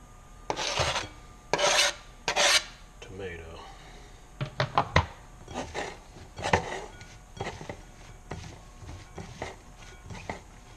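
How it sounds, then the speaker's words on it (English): Chopped tomato, cilantro and onion are tossed together in a bowl as a taco topping, giving short, separate bursts of rubbing, scraping and light knocking at an uneven rhythm, close by. "We're going to throw that all in a bowl and just mix it up."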